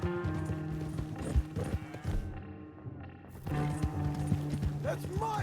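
Horse hooves clip-clop at a steady pace in the Western video game Red Dead Redemption 2, close and rhythmic beneath music, with game voices talking over much of it.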